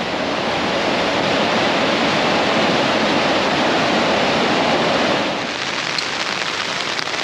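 Heavy, steady rain roars without a break on the West Highland Way in Scotland, a dense broadband wash like a downpour or rushing water, loud and close throughout.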